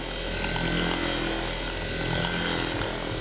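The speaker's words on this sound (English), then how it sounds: "We're just using our bigger buffer" A larger rotary buffer polishing a faded car hood gives a steady, loud whirring drone that holds evenly through the whole stretch, with no talking.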